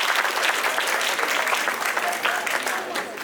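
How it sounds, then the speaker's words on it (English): Students at a high school assembly applauding, a dense sustained round of clapping from a crowd in a large room, loud and steady and tapering slightly at the end, with voices mixed in under it. "give yourself a round of applause"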